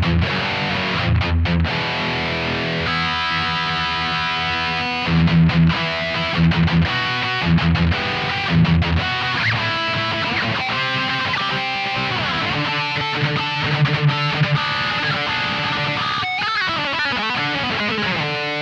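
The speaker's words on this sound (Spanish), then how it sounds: "Entonces activo la reverberación." Distorted electric guitar lead tone through a Boss ME-80 with stereo room reverb, played as a continuous flowing solo of sustained notes and fast runs, loud and saturated throughout.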